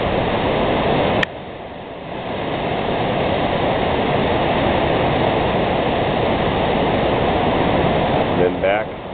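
The American River at Coloma rushes over rocks at sunset, a dense, steady roar of churning water heard close by, briefly interrupted by a sharp click and a dip near the start.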